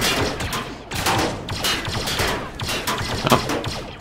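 Sustained blaster and gunfire from a Star Wars military-simulation video game, a dense, continuous volley of rapid shots and thumps filling the whole stretch without any talk.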